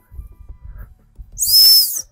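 A dog training whistle blown once, a single loud piercing high blast lasting about half a second after some low footstep-like thumps outdoors.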